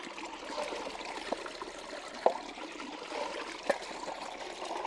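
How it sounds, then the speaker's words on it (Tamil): Water runs steadily along a small channel beside a home, a continuous soft trickling wash with a couple of brief splashy knocks standing out, close by and with no talking. "இதுல போற தண்ணி நம்ம இடம் வரைக்கும் போகும்ல"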